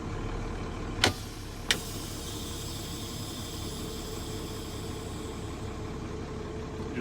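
A truck engine idles steadily in gear during a parking brake check, a low, even rumble running throughout with two brief sharp clicks near the start.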